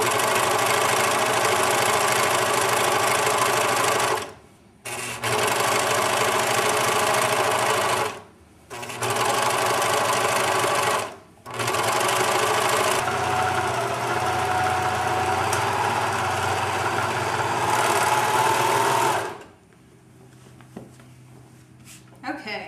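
A serger sewing machine stitches around the edge of a baby blanket, a loud, steady, close mechanical whir that stops briefly three times during pivots before cutting off at the end.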